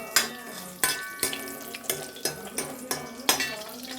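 Mustard seeds dropped into hot oil for an Onam lemon curry, giving a run of sharp crackling pops and clinks at a steady, rhythmic pace, close and fairly loud over a busy kitchen background.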